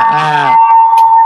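A special PJKA railway-style horn sounds on an old PJKA-built car modified into a solar hybrid electric vehicle, giving a loud, harmonically rich blast followed by a sustained steady tone.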